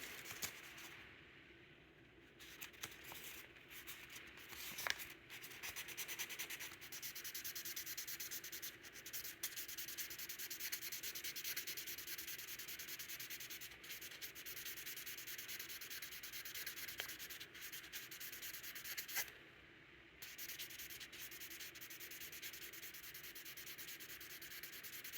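Knife blade being sanded by hand with 1500 grit sandpaper, a soft continuous rubbing and scraping with quiet strokes and brief pauses, faint and close.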